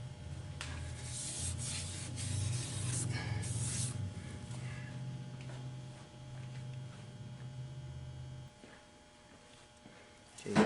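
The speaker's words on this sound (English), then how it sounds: "Let me sand that a bit." A transmission part, apparently the pump area of a 4R75W/4R70W-type automatic during a rebuild, is sanded by hand with steady, close rubbing strokes for several seconds, stopping near the end with no talk.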